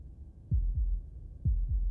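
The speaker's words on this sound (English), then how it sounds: "That was the sound of a heartbeat," Heartbeats from the video game Slay the Princess sound as two low double thumps, lub-dub pairs evenly spaced, close and soft over a quiet hum, with no talk.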